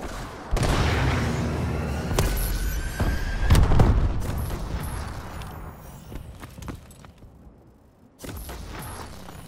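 Missile strikes landing in a Call of Duty: Advanced Warfare match, a run of deep booming impacts and gunfire crackle, loudest near the middle, fading, then one more sharp hit near the end.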